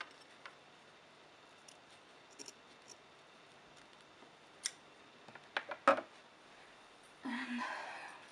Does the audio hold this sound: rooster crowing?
no